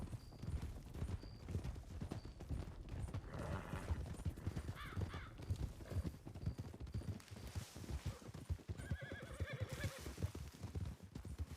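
Horse neighing and whinnying with clip-clopping hooves in a Western roleplay game, close and fairly loud, repeated several times over steady hoofbeats.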